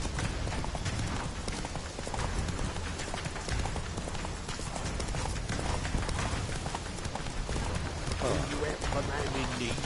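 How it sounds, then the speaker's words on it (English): Roach, Geralt's horse in The Witcher 3: Wild Hunt on PS4, gallops at speed with fast, steady clip-clopping hoofbeats layered over dense game sound, with a voice talking over it. "Come on, Roach. Run, Roach."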